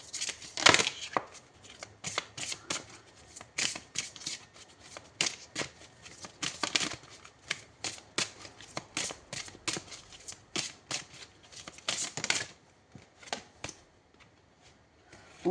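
Tarot cards being shuffled by hand, a steady series of crisp riffling and slapping card sounds close to the listener, continuing for about twelve seconds before tapering off.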